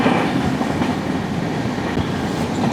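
The Trivandrum Veraval Express rolls along the rails with a steady, loud rumble and faint rhythmic clatter from the carriage, continuous and close, with no voices.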